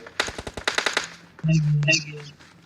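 Rapid bursts of automatic gunfire from an M416 or Thompson gun in the PUBG Mobile video game, a quick string of close, loud shots followed by a louder sustained blast with a low hum.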